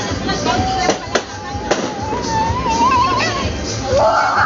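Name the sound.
fireworks exploding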